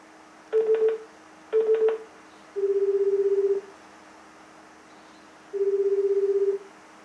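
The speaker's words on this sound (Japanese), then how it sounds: "電話をかけています。" A few quick keypad tones, then two long Japanese electronic ringback tones of an outgoing call placed through an Apple HomePod, separated by a pause, clear and steady with no voices.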